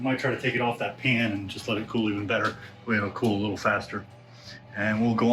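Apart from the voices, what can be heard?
No everyday noise stands out behind the speech.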